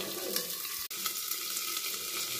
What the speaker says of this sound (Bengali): অ্যাড করার পরেও সব কিছুকে আমি নাড়াচাড়া করে আমি আবারও কিছুক্ষণের জন্য এটাকে ভেজে দেব